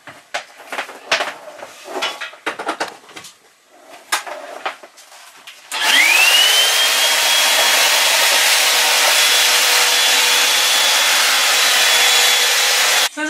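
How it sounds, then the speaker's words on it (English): A small 600-watt tiny-house vacuum cleaner switches on after some handling and rustling, then runs as a loud, steady whine with a rising motor tone, sucking up dust near a couch. "So anyway, I'm going to vacuum up some dust."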